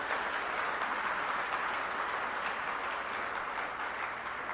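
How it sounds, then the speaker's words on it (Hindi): Dense, sustained applause from an audience at a political speech fills the whole stretch, a loud even roar of many clapping hands with no break and no talk over it. "एक बार जोरदार तालियां बजा के हमारी टीम का हौसला बढ़ा दीजिए"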